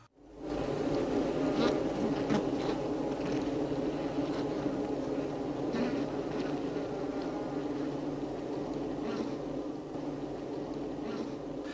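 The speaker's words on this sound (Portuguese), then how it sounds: "Impacientemente as abelhas esforçam-se para entrar na colmeia" Honeybees crowd the entrance of a hive, their dense, steady buzzing droning on close and continuous, with occasional louder passes of single bees.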